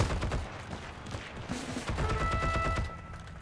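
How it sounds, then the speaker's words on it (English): Bursts of rapid gunfire from an allied player in the shooter game Heroes & Generals, loud and close, repeated shots in a dense fusillade lasting several seconds. "Is that an enemy shooting in here?"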